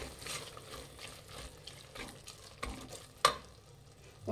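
Bread pulao with masala and a chopped tomato being mixed in a pan, giving soft, quiet stirring and scraping with a faint sizzle and one sharper clink of the utensil near the end.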